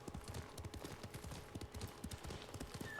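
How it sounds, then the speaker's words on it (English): Horse hooves clip-clop at a steady trotting rhythm in the video game Ghost of Tsushima. The beat is quiet but even and runs throughout, with no talking. "so let's grab our horse"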